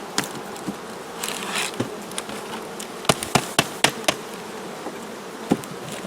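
Honey bees buzzing around a hive frame during beekeeping inspection, a steady dense hum close by with scattered sharp clicks and knocks from handling the frame, no speech.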